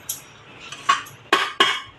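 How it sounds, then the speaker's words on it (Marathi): A metal lid is set onto a cooking pot of spiced banana flower vegetable, giving a few sharp clinks and clatters close by, with no one speaking. "आता परत मी झाकण ठेवणार आहे आणि वाफ काढून घेणार आहे"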